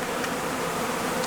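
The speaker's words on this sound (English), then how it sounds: "And the bees, you can see they're kind of flying around." Honeybees buzzing around a newly installed hive, a steady, dense drone from many insects in flight close by, unbroken and without voices.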